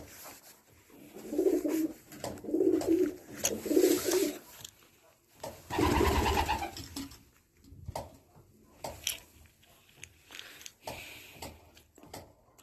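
Pigeons coo in a loft with short bursts of wing flapping and scattered rustling; the soft rhythmic coos repeat several times at moderate distance.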